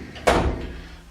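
A workshop tool drawer is pulled open with a single sharp thud that fades quickly into the quiet room tone.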